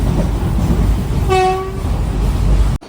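An intercity express train runs on a single-line track, a loud steady rumble of wheels on rails filling the clip, with a brief tonal horn-like blast in the middle before the sound cuts off near the end.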